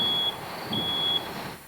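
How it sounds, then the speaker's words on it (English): An office smoke detector beeps twice, high and piercing, each beep about half a second with a pause between, against low background rumble. "That is the beep of a smoke detector in an office"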